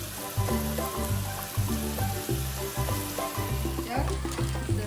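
Red chilli powder and turmeric sizzle in hot tempering oil in a home kitchen, a steady loud frying hiss with faint rhythmic stirring clinks running throughout.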